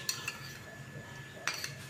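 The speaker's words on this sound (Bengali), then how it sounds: "যে বাটিতে দই নিয়েছিলাম ওই বাটিতেই আমি সামান্য একটু জল নিয়ে এটাকে ভালো করে গুলিয়ে দিয়ে দিচ্ছি" A spoon stirs baking soda into a little water in a bowl, giving two brief clinks against the bowl a little over a second apart, with a low steady background hum and no talking.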